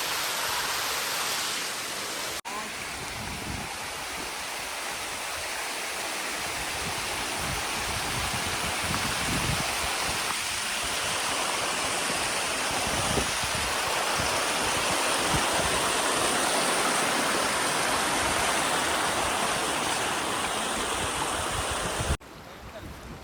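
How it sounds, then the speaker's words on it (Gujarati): A mountain stream at Saputara rushes loudly and continuously, a dense steady roar of flowing water close by, unbroken for the whole length. "બહુ ઝરણું કેટલું મસ્ત છે"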